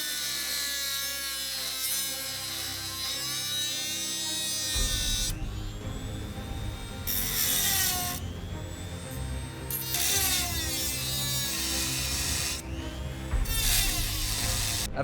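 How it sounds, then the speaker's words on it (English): A saw cuts slowly through metal to shape Batarang blades, a continuous harsh grinding with pitch sweeps and bursts that start and stop, close up, with no talking. "I had to be sure to cut out the saw blades in a very slow and precise manner"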